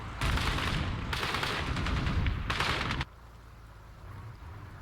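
A DShK heavy machine gun mounted on a T-10 tank firing in the Call to Arms Cold War game: three loud, dense bursts of rapid automatic fire with brief gaps, then quieter background rumble.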